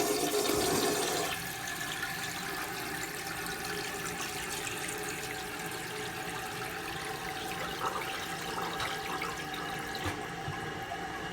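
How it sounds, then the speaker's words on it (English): A 1981 Briggs Conserver toilet fitted with a Mansfield flush valve flushes, opening with a loud rushing surge that settles into a steady hissing refill of water running continuously for many seconds, close by with no talk. "we'll give it a second flush"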